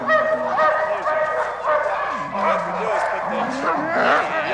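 A pack of sled dogs in the Rockies yelps and barks excitedly before being harnessed, a dense continuous chorus of overlapping high yips and howls, close and loud.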